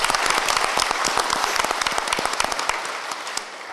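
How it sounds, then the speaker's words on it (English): An audience at an evening town hall event applauds its sponsors, with loud overlapping hand claps that thin out and fade toward the end. "A round of applause for those sponsors of us."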